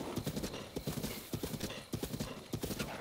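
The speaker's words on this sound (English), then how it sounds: "Oh, some more horses!" Horses' hooves clip-clop in the Zelda video game, giving rhythmic clusters of hoofbeats at moderate distance, steady and fairly soft.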